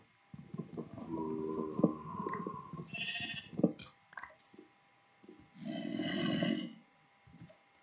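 Sheep in the video game Minecraft bleat in a few separate bursts, moderately loud and close, with a longer bleat near the end and brief gaps of quiet between calls.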